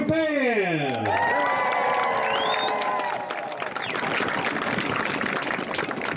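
A parade crowd at an afternoon band parade cheers and applauds continuously, with whoops and whistles rising over a dense wash of clapping throughout.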